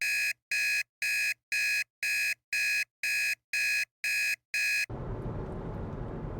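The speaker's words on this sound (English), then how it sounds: "my alarm clock went off saying, hey, you need to be out of the house" An alarm clock beeps in a steady pattern of ten evenly spaced, piercing electronic tones, then cuts off and leaves a low background hiss.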